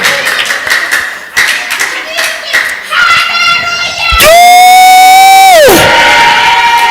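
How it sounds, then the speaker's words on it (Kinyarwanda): A church congregation claps their hands during a worship service: a few seconds of dense, loud applause mixed with voices, then a bright sustained tone rises and holds over the crowd before gliding away. "yikomera amashyi menshi cyane"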